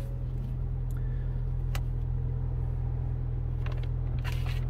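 A 2021 Ford Bronco 2-Door base model with a 2.3L engine and 6-speed manual runs with a steady, close, low rumble throughout, with a few faint clicks and ticks over the constant drone.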